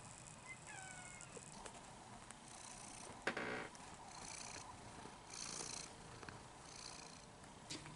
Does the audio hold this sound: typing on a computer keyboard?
no